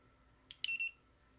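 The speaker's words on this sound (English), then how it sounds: "It should beep very low." A couple of short clicks followed by a brief, faint, high-pitched electronic beep from a Vifly Beacon drone buzzer, close by in an otherwise quiet room.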